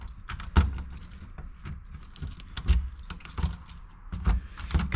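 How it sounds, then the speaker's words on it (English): Keys jangle and clink near a storage cabinet lock on a 2017 Jayco Seneca motorhome, with repeated sharp metallic rattles and taps at an irregular rhythm, close and fairly quiet. "Kinda gotta angle the keys a little bit."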